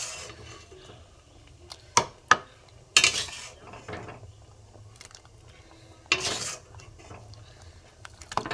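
A spoon clatters and scrapes in a pot as fried spice paste is stirred into vegetarian khichuri, with scattered sharp knocks and quieter stirring between them.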